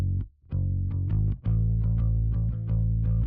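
A cheap Squier P bass, a 50s replica, plays a clean DI-recorded line of steady plucked notes, deep and full, with short gaps between phrases and no voices.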